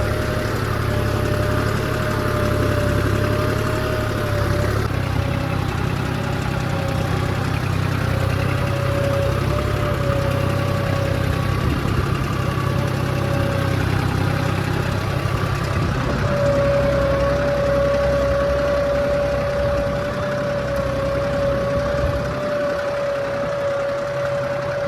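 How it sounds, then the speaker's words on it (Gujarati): A Deutz-Fahr tractor engine runs with a cultivator in a farm field, a continuous mid-low drone with a faint whining tone on top, steady and fairly close for the whole stretch, no talking. "તો મિત્રો આપણે ટ્રેક્ટર રાખવાનું ચાલુ કરી દીધું છે।"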